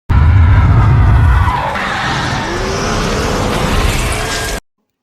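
A loud burst of explosive roaring and burning for a vampire movie effect, heaviest at the start, then a sustained crackling rush that fades before cutting off abruptly.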